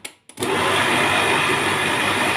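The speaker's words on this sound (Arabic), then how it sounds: "طبعا صوت الخلاط صعب جدا" After a couple of faint clicks, a kitchen blender processing tahini with oil starts up and roars loudly and steadily at close range, with a constant high-pitched motor whine.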